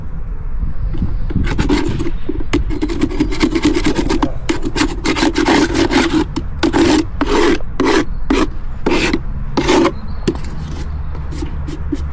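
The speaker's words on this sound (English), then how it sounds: "So just scraping the wax off with my hive tool." A metal hive tool scrapes beeswax and propolis off a wooden hive box in loud, close strokes, some rapid and some slower and evenly spaced, with no talking.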